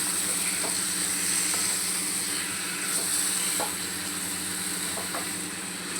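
Prawns sizzle in a thick masala as they are stirred, a loud, close, continuous frying hiss with scattered spoon scrapes and no talking.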